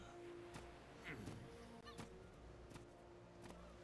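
A turkey-like creature in the video game Ark gives short honking gobble calls, faint and somewhat distant, mixed with scattered clicks and thumps from the game in the background.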